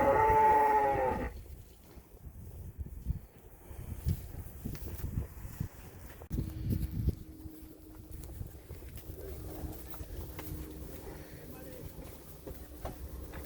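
Cattle mooing as a bull works among the cows checking which are in heat, with a loud low call at the start followed by outdoor wind and scattered animal and movement noises, faint talk nearby.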